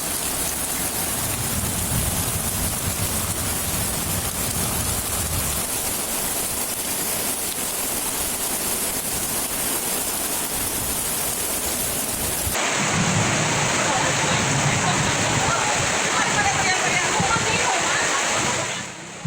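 Heavy rain pours over a flooded residential area during a flash flood, a dense, steady roar of falling water and rushing floodwater that shifts in character partway through, loud and continuous with a voice speaking over it.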